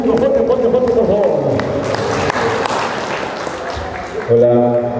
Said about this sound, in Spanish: ¿Dónde está el aplauso del público?